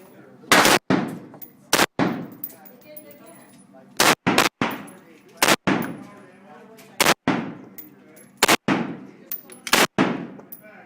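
Pistol and rifle shots from a Walther handgun and an AR-15, fired outdoors: about ten sharp, loud reports in irregular pairs and singles, each ringing out with a fading echo, with faint talk in the gaps.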